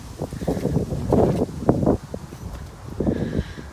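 Gusty wind buffets an outdoor garden around a pallet compost bin on a blustery November day, with rumbling microphone noise rising and falling in uneven bursts and occasional faint rustling and knocks.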